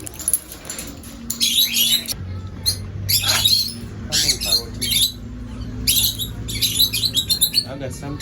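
Parrots squawk and chirp loudly and repeatedly while being fed treats in a bird aisle, the harsh bursts coming in clusters over a low background hum as a person talks to them.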